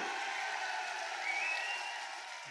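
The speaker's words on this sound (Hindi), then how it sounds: "ताली बजाइए और जोर से ताली बजाइए" Applause from an audience at a political rally in Rajasthan, a dense, steady wash of clapping that holds evenly for a couple of seconds before easing off slightly at the end.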